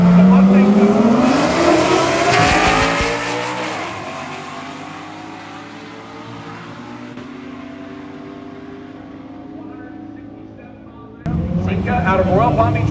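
A 2017 Audi and a Mustang launch side by side at a Florida drag race, their engines roaring loud and close with rising revs, while an announcer talks over the racing.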